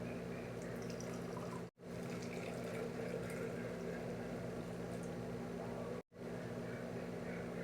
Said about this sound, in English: I will be measuring 12 ounces of hot water